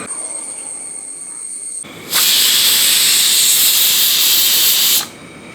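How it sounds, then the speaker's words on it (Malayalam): A pressure cooker cooking beef biryani gives off a soft background hiss, then bursts into a loud, sustained steam whistle lasting about three seconds before cutting back to a quieter hiss. "ഏകദേശം ഒരു പത്ത് പന്ത്രണ്ട് വിസിലെങ്കിലും അടിക്കണം"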